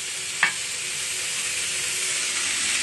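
A beef burger patty sizzles on a hot griddle in a burger restaurant kitchen, giving a steady, loud hiss throughout, with one brief sharp tap near the start.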